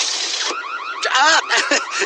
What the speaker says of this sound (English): Turns out the alarm works.